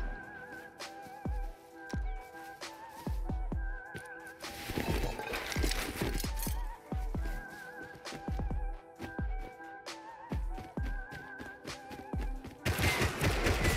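AK rifle fire in Rust, a string of sharp separate shots and short bursts at moderate distance, with thuds and other gunfire layered among them.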